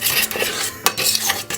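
A spoon stirs milk into mashed potato in a pot, giving soft wet squelching and scraping strokes with a few clinks against the metal, close and quiet without talk.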